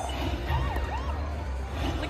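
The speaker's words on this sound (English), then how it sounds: "Look at that, the sirens." Wavering electronic siren tones from a Bank Buster slot machine sweep up and down over a dense, steady wash of casino machine noise, loud and continuous.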